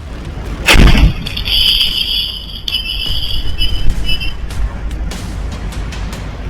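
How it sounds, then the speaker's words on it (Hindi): A burning petrol bottle thrown outside an RSS office in Ranchi at night bursts with one loud, sharp blast near the start, caught on CCTV, followed by a lingering rumble and scattered clatter. "हाथों में जलती पेट्रोल की बोतल और जोरदार धमाके की आवाज"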